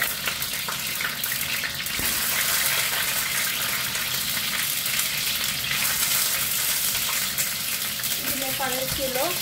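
Eggs dropped into a pan with water sizzle and bubble in a loud, steady hiss that holds unbroken throughout, with a short voice near the end.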